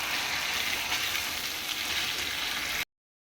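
Duck meat sautéing in a pan during monsoon-day cooking, a loud, dense, continuous sizzle and hiss that stays even for about three seconds, then cuts off abruptly into silence.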